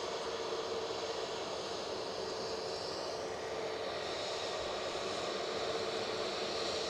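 Airliner at Edinburgh Airport departing for Heathrow, a distant, faint, steady engine roar and hiss that holds evenly throughout with no voices.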